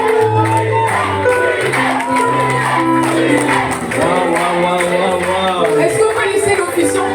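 A worship crowd at a baptism ceremony cheers and shouts in acclaim, loud and sustained, with voices whooping over a steady roar.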